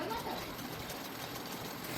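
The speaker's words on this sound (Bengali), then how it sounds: "পুরো বরাবর সেলাইটা আমি করে নিচ্ছি।" A tailor's sewing machine stitches a straight seam along fabric, running with a steady, fast mechanical whirr while a voice talks.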